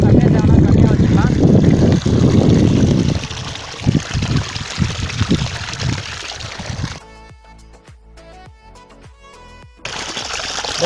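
Water gushes from a 5HP solar water pump pipe through a gate valve, a loud steady rushing flow that drops off partway, leaving a quieter spell before the flow resumes.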